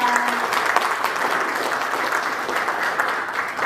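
Audience applause at a technology seminar in the National Assembly members' office building, a steady, dense clapping that keeps an even level for the whole stretch, with no voices clearly standing out.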